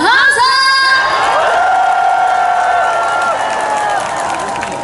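Loud cheering and shouting from a festival crowd on Namsan, with high voices whooping and sustained tones carrying over faint clapping, strongest at the start and easing gradually.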